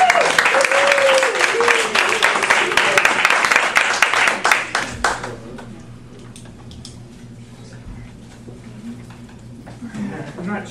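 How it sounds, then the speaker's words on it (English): An audience at a spring contest claps loudly for the judges, a dense burst of applause lasting about five seconds before fading into quiet room noise and faint talk. "let's give them a round of applause."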